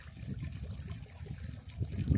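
Water trickles softly outdoors in a backyard in Las Cruces, New Mexico, a faint, steady low gurgle heard at close range with no one speaking.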